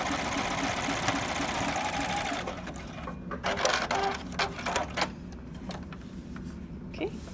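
A sewing machine stitches a knit band at a steady, fast whir for a few seconds, then stops and leaves fainter handling clicks and rustles.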